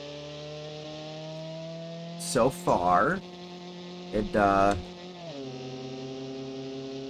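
A cheap off-road car built for a Baja dirt track in BeamNG Drive, its small engine giving a steady buzzing, lawnmower-like drone. The pitch holds level throughout and shifts near the end, under two short bursts of talk.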